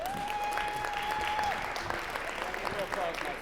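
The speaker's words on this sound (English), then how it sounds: "Let's give him a round of applause." Audience applauding a volunteer at a keynote presentation in Hershey, a steady wash of clapping from a crowd lasting a few seconds, with a sustained whistle-like tone early on and speech faintly underneath.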